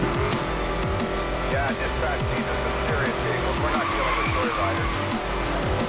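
Tires squealing as a car drifts in the video game NFS Most Wanted, repeated sliding screeches over a constant engine roar, with someone talking throughout.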